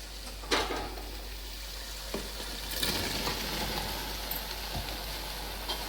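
Mushrooms frying in a pan with onion paste give a steady close sizzle and crackle, with a few sharper pops and stirring scrapes scattered through.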